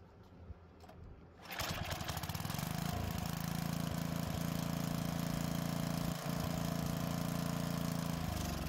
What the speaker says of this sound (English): The engine starts this way